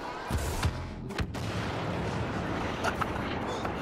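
Star Wars video game battle with rapid blaster gunfire, sharp cracking shots and bursts over a dense, noisy background of battle din, loud and continuous.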